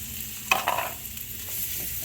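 Half a yellow onion dropped into a hot pan with minced garlic, giving a brief burst of sizzle and a utensil scrape over a steady background frying hiss.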